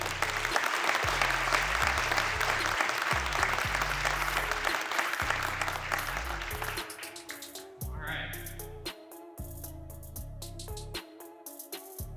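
Audience applauds to welcome Dr. Ben Hardy at a day-long event, a dense wash of clapping that fades after about seven seconds as music with a steady beat comes forward.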